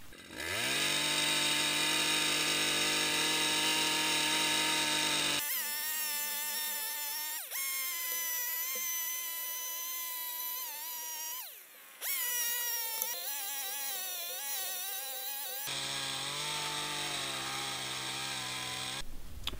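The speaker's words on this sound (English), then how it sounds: "here is my first ever lumber cut with a chainsaw out of a tree" A chainsaw roaring close by as it cuts lumber out of a tree, its engine pitch shifting under load, dipping briefly midway, then revving steadily again.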